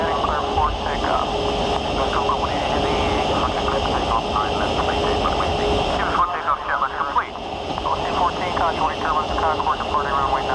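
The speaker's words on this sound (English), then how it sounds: "Concorde departing runway 9 or left." Concorde jet engines roar steadily during takeoff from runway 9 left, a loud continuous broadband rush with a brief dip partway through, heard inside over cockpit radio chatter and crew voices.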